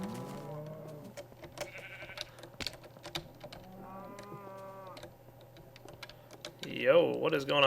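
Sheep bleating repeatedly in Minecraft, several wavering calls spread through the scene alongside keyboard clicks and a steady background hum, with a person talking.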